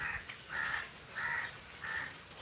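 Crows cawing near a temple: four harsh, repeated caws at a steady pace over faint background ambience, moderately distant.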